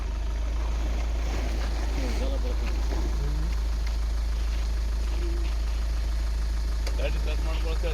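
Vehicle engine running steadily with a strong low rumble throughout, voices talking over it in the foreground.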